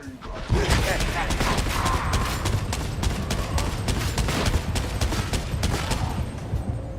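A point-blank barrage of video game gunfire: loud, rapid, evenly spaced shots hammer nonstop for about seven seconds, close and heavy, with no talking over them.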